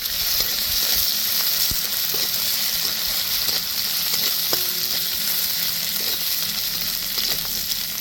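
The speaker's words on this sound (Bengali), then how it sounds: "অল্প সামান্য লবণ খুব ভালো করে আমি ভেজে নেবো আবারও" Potatoes frying in oil with a little salt, for a sago pulao, give a steady, loud broadband sizzle throughout, with a few faint clicks of stirring and no voices.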